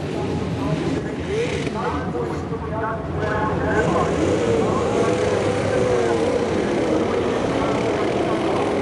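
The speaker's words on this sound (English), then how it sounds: "The engines fire, they'll roll shortly." Supercars V8 race car engines idling and firing at the 2006 Pukekohe International race, a broad steady engine drone under a commentator's voice.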